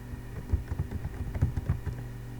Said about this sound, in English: we're going to type what we want it to say